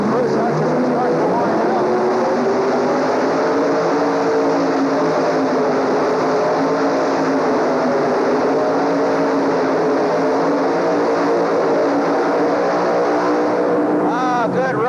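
A Dodge two-wheel-drive pulling truck at the 1985 Indy Super Pull roars loud and sustained as it runs down the track, with announcers talking over the engine throughout.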